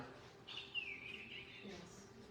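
One bird gives a short, thin chirping call, faint against a quiet background hum.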